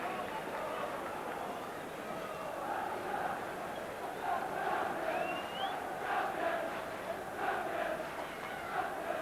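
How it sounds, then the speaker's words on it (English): Liverpool supporters in a large stadium crowd at a 1981-82 football match against Birmingham City, chanting 'champions' in a sustained, rhythmic roar, with distant voices blending into a steady mass of noise. "some of the Liverpool crowd here shouting champions"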